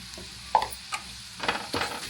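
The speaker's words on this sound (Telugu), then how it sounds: "కొంచెం పసుపు యాడ్ చేయాలి బాగా కలపండి" Prawn curry with turmeric and spices stirred in a hot pan: a faint background sizzle broken by a handful of short scraping stirs, close by and with no speech.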